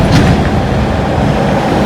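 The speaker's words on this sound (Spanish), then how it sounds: "el V8 como se escucha detrás" V8 engine of an old police car on display at a Route 66 museum, a loud low rumbling drone, close and steady, with no speech over it.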